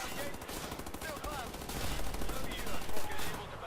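Rapid machine gun fire in the Wolfenstein shooter game, a dense crackling burst that runs through the whole stretch with heavy low thuds near the end and a speaking voice mixed in.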